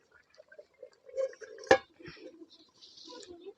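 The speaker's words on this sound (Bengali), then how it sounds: "এবার ঢাকা দিয়ে দেবো" A lid set onto a pot of simmering chicken kosa gives a single sharp metallic clank, surrounded by softer clinks and quiet kitchen noise.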